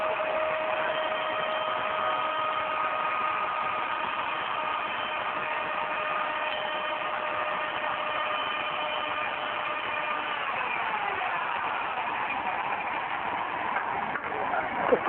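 A toy gladiator robot, Rodney, keeps spinning its wheels in a steady, dense motor whine and rattle that runs unbroken for the whole stretch, with a few sharp knocks near the end.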